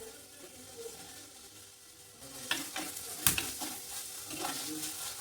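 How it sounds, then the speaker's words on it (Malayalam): Chopped tomato goes into a frying curry, a quiet sizzle that grows busier after a few seconds, with stirring clatter and a sharp clink of a utensil against the pan. "നമുക്ക് തക്കാളി അരിഞ്ഞിട്ട് കൊടുക്കാം"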